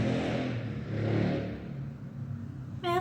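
Motorcycle engines rise and fade as bikes pass nearby, revving briefly, with a voice starting at the very end.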